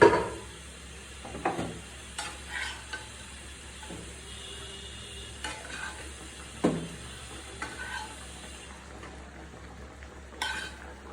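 Hilsa fish frying in a pan, with a steady low sizzle and hiss broken by scattered clinks and scrapes of a utensil against the pan, fairly quiet and with no voices.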